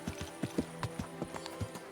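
Horse hooves clip-clopping at a steady walking rhythm in the video game Kingdom Come: Deliverance II, crisp and fairly close, with no talking.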